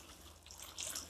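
Water trickles and drips into a bucket worm bin, soft and close, a gentle splashing that swells briefly near the end.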